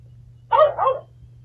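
Chongker Percy interactive robot dog lets out a single short two-part bark, close and clear, against a quiet low hum.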